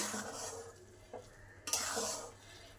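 Papaya halwa being stirred and pressed in a pan until dry, with soft scraping strokes and a faint sizzle; a couple of sharper scrapes stand out near the end, with no talk.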